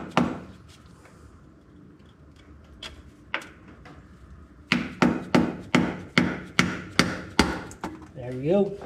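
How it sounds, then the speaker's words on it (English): Hammer taps on the differential cover of a 2014 Jeep JK Wrangler during a diff fluid change, a few scattered knocks and then a steady run of about nine sharp, close metallic strikes, with a brief voice at the end. "I need a little bit of a hammer here, just to try not to mess up your cover too bad."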